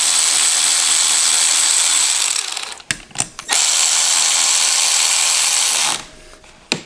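Close mechanical whirring of a power tool running valve cover bolts on a 1978 Honda XL 175 motorcycle engine, a steady run broken by a few short bursts and stops before another brief spin starts.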